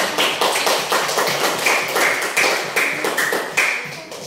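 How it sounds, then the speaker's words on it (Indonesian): Classroom applause for a student group that has just presented, a steady burst of many hands clapping at close range, sustained evenly across the whole stretch without talk. "kasih tepuk untuk"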